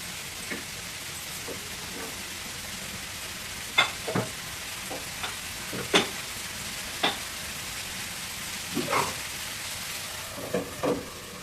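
Broad beans and tomato curry fry in a pan with a soft, even sizzle, while occasional spoon scrapes and taps come through at irregular intervals, close but fairly quiet, without speech.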